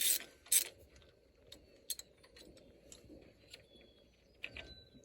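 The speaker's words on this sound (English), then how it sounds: "you take your socket that's on your ratchet, and then you loosen it up" A socket ratchet loosening a Cummins exhaust pressure sensor, heard as faint, sparse clicks and a couple of short ratcheting bursts against a quiet background, with no talking.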